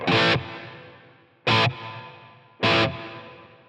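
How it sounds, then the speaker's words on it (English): Distorted electric guitar played through a Helix, ToneX, Kemper or Quad Cortex with reverb pre-delay cranked to an extreme: three short, loud chord hits, each trailed by a long reverb wash. "it takes a second for that decay to kind of kick in"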